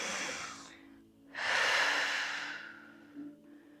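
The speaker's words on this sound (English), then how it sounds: "Deep breath in." Long, deep inhaling breath during a Pilates class, close and clear, swelling loudly after a brief quiet gap and tapering off, with a softer breath at the start.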